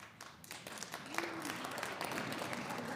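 Audience applause at a live stand-up comedy show, a crowd clapping that builds from scattered claps into a fuller steady patter, moderately loud and continuing through the whole stretch.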